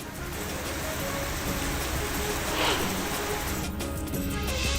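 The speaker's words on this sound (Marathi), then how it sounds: "सांगली मिरज शहर परिसरात पावसानं जोरदार हजेरी लावली आहे" Heavy monsoon rain pours down over Sangli-Miraj in a dense, steady hiss, loud and continuous throughout, with no one speaking.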